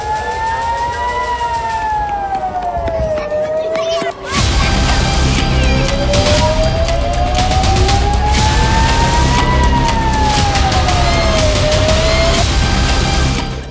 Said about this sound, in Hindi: इजराइल की राजधानी तेल अवीव में एक सायरन बजा